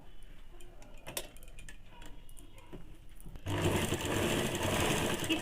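A sewing machine stitches a half-inch folded hem around baby panties. Faint ticking and handling come first, then the motor starts and runs loud and steady for the last two seconds.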